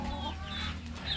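Upgraded native chick clucking softly and briefly, a few faint high chirps over a low background hum.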